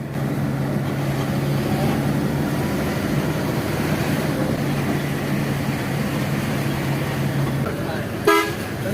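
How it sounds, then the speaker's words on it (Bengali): Large vehicles rumble along a narrow, winding village road in Phulbaria, a constant loud roar with a low hum, then a short horn toot near the end. "এই রাস্তা দিয়েই বড় বড় যানবাহন চলাচল করছে"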